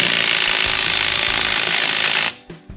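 A Kobalt cordless impact driver hammers in a rapid, loud, continuous rattle for about two seconds, then stops abruptly with a couple of faint clicks.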